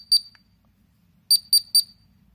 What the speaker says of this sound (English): So you hold it down until you hear beeping.